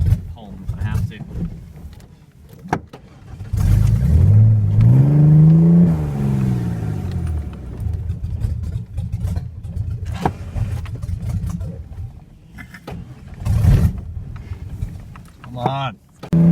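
A Ford Ranger engine running rough, sputtering and surging unevenly with a rising rev in the middle, close up, while people talk over it.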